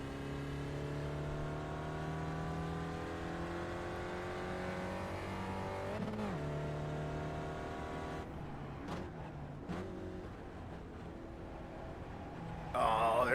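An SCCA Spec Ford race car runs at Lime Rock Park, its engine droning steadily from inside the cockpit and shifting pitch through gear changes, with a few sharp bumps and a burst of noise at the end.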